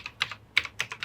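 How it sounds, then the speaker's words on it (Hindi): Computer keyboard typing, a handful of crisp, close keystrokes in an uneven rhythm, heard alone with no talking. "लिंक्डइन टाइप किया"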